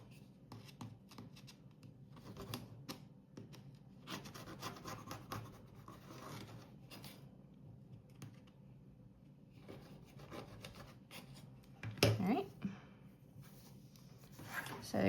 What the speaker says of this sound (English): cut along the ruler, pushing it up against the edge of my book board, I should say, and then cutting along the edge of the ruler